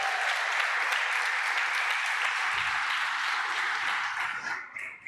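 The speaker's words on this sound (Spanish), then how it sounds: "¿Cuántos le dan palmas por eso?" A church congregation applauds during a sermon with a dense, even wash of clapping that holds steady throughout and fades slightly at the very end.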